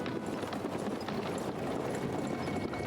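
Horse hooves clip-clop steadily in the PC game Black Book as a carriage pulls away, a continuous rapid trotting rhythm set against dense ambient game sound, with no speech.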